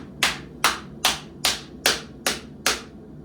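A forging hammer strikes metal in a blacksmithing exercise, seven sharp evenly spaced blows about half a second apart, each a bright clanging hit with a short ringing decay, close and loud.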